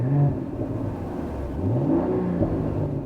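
The inline-six engine of a 2024 Mercedes-AMG GLE 53 Coupe revs and burbles with a deep, throaty exhaust note, rising and falling in pitch, fairly loud and close with no talking.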